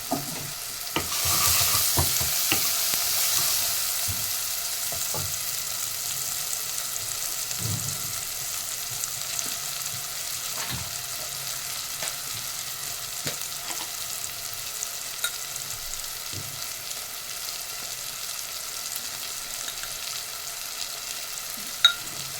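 Garlic and sugar stir-fried in a pan give a steady soft sizzle, broken by scattered scrapes and clicks of stirring, close and fairly quiet.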